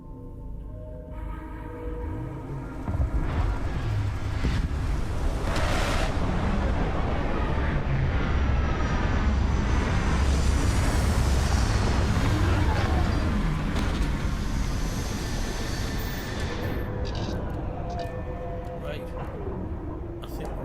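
Spaceship landing in Starfield, a loud continuous engine roar and rumble that swells after a few seconds and holds for most of the clip, with thrust hiss and mechanical whine, alone without voices.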